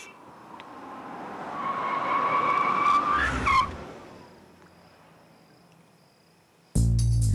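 A car's tyres squeal in a long rising skid that ends abruptly in a stop, loud and close, followed by quiet and then a sudden loud thump.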